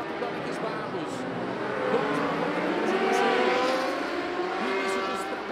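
Superbike engines whine and rise as the bikes pass on the warm-up and tyre-warming lap around the 4,309-metre Interlagos circuit in Brazil during a 2018 race weekend, swelling and fading at a distance under race commentary.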